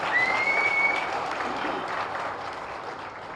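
An audience claps steadily at a political event held for flood victims, a sustained wash of applause that fades slightly toward the end, with a faint high tone near the start.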